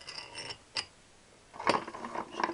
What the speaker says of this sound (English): Slide my threaded rod through.